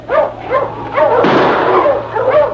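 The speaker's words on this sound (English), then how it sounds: "He's got a good set of dogs." Sled dogs in the Yukon bark and yip in quick, close bursts, with a short noisy rush partway through.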